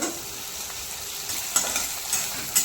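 Mustard seeds and spices for a tadka crackle and sizzle steadily in hot oil in a pan while amaranth leaf fry is being made, with a few sharper pops and stirring scrapes.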